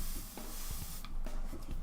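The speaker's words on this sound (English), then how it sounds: "Or I could just, you know, spray myself some more." A hand-held spray bottle misting water onto a person in a warm room gives a soft, close hiss lasting about a second, then fades to quiet room tone with small faint handling noises.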